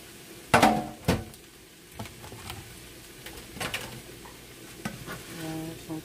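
Pork and green onions sizzle in a stir fry pan, with a soft steady frying hiss broken by several sharp clanks and scrapes of a utensil against the pan.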